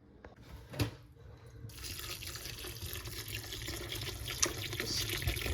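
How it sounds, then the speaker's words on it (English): Vinegar pours into a pot of ground peppers and garlic for pepper jelly. After a brief knock, a steady, splashing liquid stream starts and continues close by, with a few small clunks and no one speaking. "we are going to add our next ingredient, which is 20 cups of vinegar"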